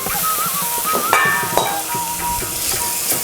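Curry leaves tempered in hot oil are poured into the puli inji (mulaka pachadi) mixture and stirred, giving a steady close sizzle with a few sharp clinks of a spoon against the pot.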